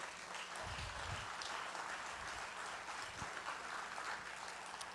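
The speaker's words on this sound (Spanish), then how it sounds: "Denle un aplauso al Señor fuerte." A church congregation applauds during a Spanish-language sermon, a steady, dense wash of clapping heard from a distance that holds evenly throughout with a few low thumps.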